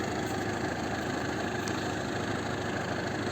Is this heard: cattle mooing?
no